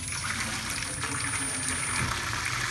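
A Peerless steam boiler refills with water through a small ceiling-mounted solenoid valve, giving a steady, continuous trickling flow with faint background hum throughout.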